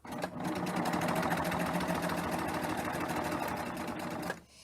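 A serger sewing machine stitches and trims along a fabric edge, a close, rapid mechanical whirring that starts abruptly, holds a steady fast rhythm for about four seconds, then stops.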